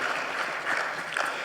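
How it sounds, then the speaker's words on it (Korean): A church congregation at a Sunday service claps warmly in encouragement, a steady, even patter of many hands filling the hall. "우리 따뜻한 위로와 격려의 박수 한번 해주시기 바랍니다"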